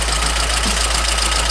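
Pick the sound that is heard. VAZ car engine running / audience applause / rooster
VAZ car engine running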